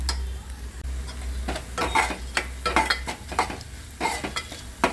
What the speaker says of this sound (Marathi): ह्याच्यामध्ये आपला गरम मसाला टाकायचा हा भाजून घ्यायचा पूर्ण तेलामध्ये पूर्ण भाजू द्यायचा